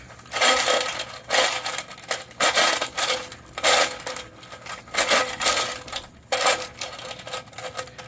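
A chain shaken inside a 1987 Harley-Davidson Sportster gas tank during interior cleaning rattles and clanks in loud, repeated bursts, roughly one shake per second, with brief pauses between.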